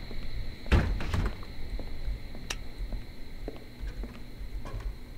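In the horror game Pineview Drive, a door thuds as it swings and shuts, one heavy knock followed by a few lighter clicks and taps against faint steady background hum.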